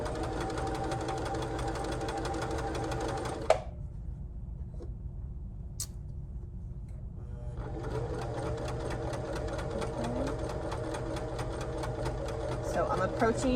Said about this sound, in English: make sure before you sew over it that it's all nice and flat